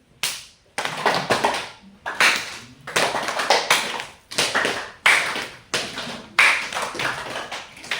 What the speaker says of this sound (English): Okay, so we'll clap, and this is the best exercise we can do.